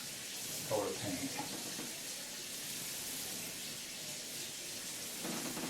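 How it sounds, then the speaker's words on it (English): Water splashes and trickles in a kitchen sink where a paint pad edging tool for cutting in is soaking, a steady wet wash with a brief louder splash near the start and more stirring at the end. "the splashing in here is the little pad cutting in tool, soaking in the sink"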